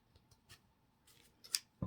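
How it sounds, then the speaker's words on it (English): A few faint, quick snips of scissors cutting paper, soft and close, with brief pauses between cuts. "Scissors just don't want to cut today."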